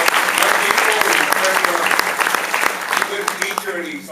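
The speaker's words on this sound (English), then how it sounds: "How about another round of applause?" An audience at a Hispanic youth event in Arizona breaks into a dense round of clapping, loud and sustained throughout, with voices talking and calling out beneath it.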